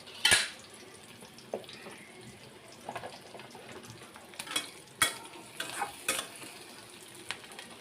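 Onion and green chili fry in a pan, a faint, quiet sizzle broken by several sharp stirring scrapes and clinks against the pan at irregular intervals.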